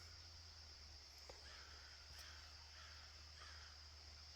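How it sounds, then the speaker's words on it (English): Crows caw in the woods at the start of fall, several short harsh calls repeating at a slow, even rhythm, fairly distant and faint over a steady background hiss. "Listen to the crows telling me that fall's coming."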